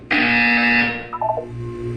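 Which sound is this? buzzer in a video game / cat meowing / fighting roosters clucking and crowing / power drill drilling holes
buzzer in a video game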